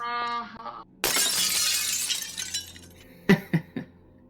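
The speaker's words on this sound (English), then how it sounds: "Why was there a shattering sound?" Glass shattering as a sound effect during a tabletop fantasy game session in a drow temple, a loud sudden crash of breaking glass followed by scattered tinkling fragments.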